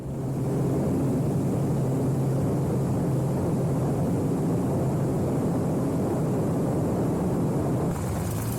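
A Pitts Special aerobatic biplane takes off at full power, its engine roaring loud and constant from start to finish, a dense close drone with no pauses or voices.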